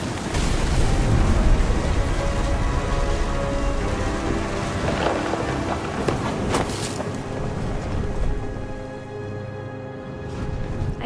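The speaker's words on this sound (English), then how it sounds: "Thunder sounded much too close and full of angry power" A rain and thunder storm from What Remains of Edith Finch. Heavy rain roars steadily, and deep rumbles and cracks of close thunder rise and fade across the stretch with no voices.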